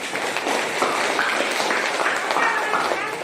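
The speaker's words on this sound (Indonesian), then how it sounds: "Kita kasih tepuk tangan dulu." A classroom gives a round of applause, steady moderate clapping from a group of students, with some chatter mixed in.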